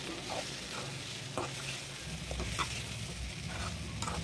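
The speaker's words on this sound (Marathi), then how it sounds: "आता आपण हे पोहे इथे टाकून घेतलेले आहेत आणि यांना छान असं परतून घेऊया।" Soaked poha with onions is stirred and sautéed in a pan, giving a continuous soft sizzle with occasional scraping clicks from the spoon, close and moderately quiet, with no talking.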